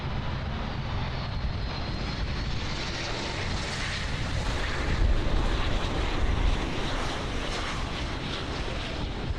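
American Airlines Boeing 737 MAX 8 landing on runway 09 at Miami International Airport, heard as a loud, continuous broadband jet roar that swells slightly midway, with wind buffeting the microphone.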